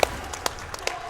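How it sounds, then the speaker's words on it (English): Audience applause in a speedrun event hall at the end of a Metroid Dread run, a few scattered sharp claps standing out over a low room murmur, fairly faint. "Give a big round of applause for our runner Grubdog and his fantastic couch."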